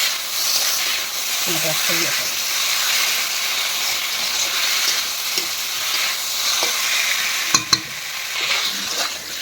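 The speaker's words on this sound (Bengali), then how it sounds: "এটা আস্তে আস্তে নেড়ে নেড়ে রান্না করতে হবে, এরকমভাবে ভাজা করতে হবে" Dried taro stolons (kochur loti) fry in a pan with a steady hiss, broken by a few soft scraping stirs and one sharp clack near the end; a voice murmurs faintly underneath.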